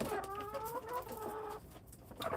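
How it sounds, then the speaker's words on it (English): Chickens cluck in a coop with a few newly added birds, a close run of repeated, overlapping clucks that thins briefly before a fresh burst at the end. "We just put a couple more chickens in here."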